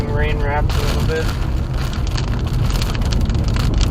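Heavy rain from a tornado-producing storm near Palmer and Gilmore City, Iowa, pours steadily onto a moving vehicle, a dense close hiss with wind, and a brief whistling tone near the start.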